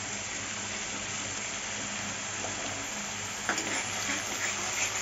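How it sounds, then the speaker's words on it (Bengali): Ginger, chili and garlic paste fries with onions in a pan, giving a steady, hissing sizzle up close, with a few scraping stirs toward the end. "ভালো করে কষিয়ে নেব।"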